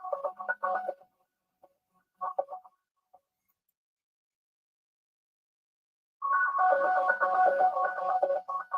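Bursts of a warbling electronic phone ringtone, clear and alone against silence: two short bursts, a long pause, then a longer ringing stretch.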